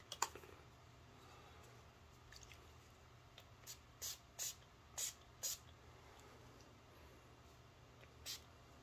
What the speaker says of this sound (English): You just take a little bit of setting spray.